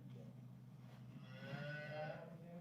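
Cattle on a farm moo in a single drawn-out, fairly close call that swells and fades over a faint background hum.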